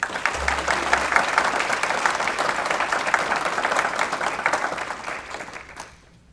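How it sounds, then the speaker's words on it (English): Steady applause from an audience at a county school board meeting, sustained for several seconds at a moderately close distance and then tapering off near the end. "Please give her a round of applause."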